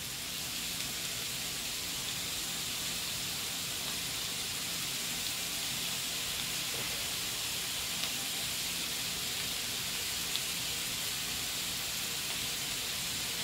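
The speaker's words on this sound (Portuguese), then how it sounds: "agora a gente vai deixar ele fritar um pouquinho na sua própria gordura" Charque, a dried beef, frying in its own fat in a pan, giving a faint, steady sizzling hiss with no voices.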